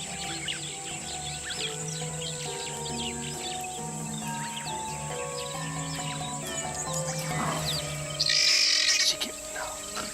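A flock of guinea fowl calls in the Namibian bush, a steady chorus of harsh, repeated chattering and clucking at moderate distance over a low wild hum, with a louder burst of noisy calls near the end.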